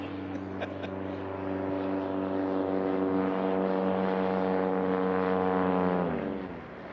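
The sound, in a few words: Carbon Cub light aircraft landing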